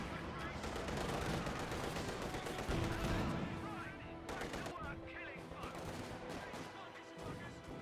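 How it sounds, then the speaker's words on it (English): Machine gun fire in a Company of Heroes 2 battle at an intersection, with rapid loud bursts and overlapping combat noise that fades somewhat toward the end. "got the intersection firing away against the Pioneers"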